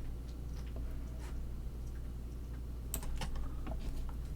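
Steady typing on a computer keyboard with scattered mouse clicks during office document editing, quiet and close, with a denser burst of keystrokes near the end and no talking.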